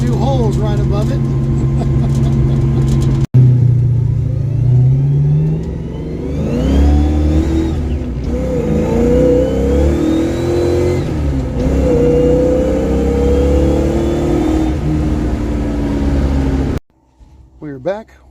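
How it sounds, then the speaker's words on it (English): A 1982 Ford Mustang with holes in its floor drives along, engine revving up and down with exhaust rumble and popping, recorded from inside the car, loud with speech mixed in. "You can really hear that exhaust pop with new holes right above it."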